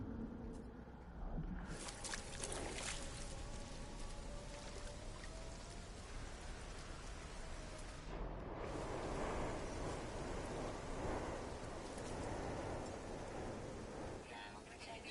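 Rainstorm on an alien planet in No Man's Sky, a dense steady roar of rain and wind lasting throughout with surging gusts, and a faint voice briefly audible beneath it.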